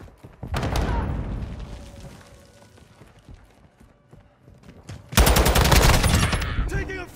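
Call of Duty Modern Warfare II multiplayer firefight: bursts of rapid automatic gunfire crack loudly near the start, ease into scattered distant shots, then erupt again in a dense, loud volley toward the end.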